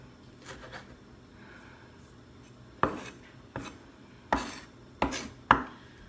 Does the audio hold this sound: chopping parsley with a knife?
yes